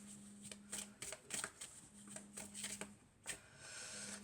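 Tarot cards shuffled by hand in a series of crisp riffling bursts with short pauses between them, close and fairly quiet, with a low steady hum underneath and no talking.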